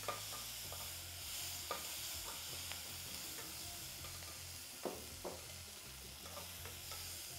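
Ridge gourd frying in a pan with onion, tomato, green chili, mustard seeds, urad dal, cumin and curry leaves, a steady sizzle broken by sharp scraping stirs at irregular intervals, close and alone.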